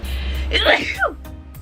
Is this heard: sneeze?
yes